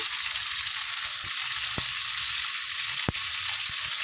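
Onion, tomato, green chilli, ginger and garlic fry in a pan, giving a steady close sizzle throughout with a couple of sharp spatter pops and faint stirring.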